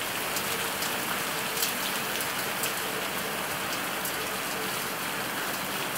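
Heavy rain pours down steadily in Antalya, Turkey, a dense continuous hiss of drops pattering on surfaces, close and loud with no speech.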